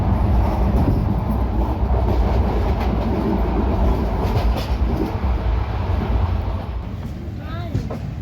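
The Dhanbad–Kolhapur Dikshabhoomi Express rushes through Valivade station at speed, a loud continuous roar with rattling wheels and clatter throughout, faint voices mixed in.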